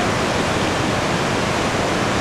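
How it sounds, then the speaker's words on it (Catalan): Murchison Falls in Uganda roars with crashing water, a loud, steady, broadband rush of falling water with no voices. "allà fixeu-vos com trenca l'aigua, la veritat és que és esfereïdor"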